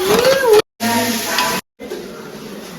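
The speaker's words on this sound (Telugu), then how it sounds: "ఒక సైడ్ ఏమో అస్లంగాడు ఫ్రై చేస్తుండు" Chicken frying in a pan gives a loud, close sizzle in short bursts broken by brief silences, with a voice talking over the first part.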